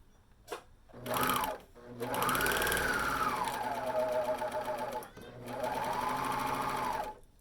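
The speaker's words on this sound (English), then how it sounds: "we're going to sew that with a 1/2 inch seam allowance" A sewing machine stitches a 1/2 inch pocket seam on a tee shirt in bursts, a loud whirring run, a long steady stretch and another run, with short pauses between.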